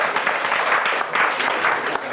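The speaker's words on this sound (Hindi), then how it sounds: "देखे तालियां तालियां बजा दीजिए इनके लिए।" A classroom audience claps for a student during an organic chemistry lesson, a steady, dense burst of applause filling about two seconds with no voices over it.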